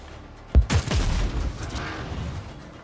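Gunfire in the Warhammer 40,000 Dark Heresy video game: a sharp nearby shot followed by a quick burst of several booming reports, trailing into a low rumbling decay with no talk.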